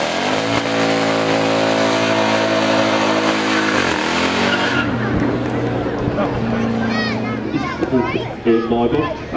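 A lowered, remapped car with an upgraded supercharger, sports cat, stainless straight-through exhaust and methanol injection revs hard and roars past at a supercar event, loud and close. The engine note drops away as crowd noise and children's voices take over.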